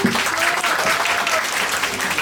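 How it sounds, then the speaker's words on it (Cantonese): A seminar audience applauds to welcome the next speaker onto the stage, a continuous, even wash of many hands clapping at full strength with no break. "大家掌聲有請阿 Joy"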